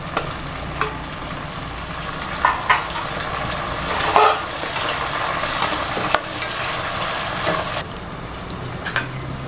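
Chopped tomatoes sizzle with sautéing shallots in a pan for mango pachadi, a steady frying hiss broken by repeated clinks and scrapes of a stirring spoon, close and alone without talk.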